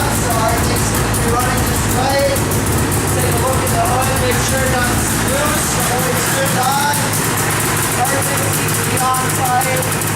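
A snowmobile engine idling at about 1600 RPM after a carburetor cleaning, a steady, continuous mechanical drone close by with constant loudness throughout.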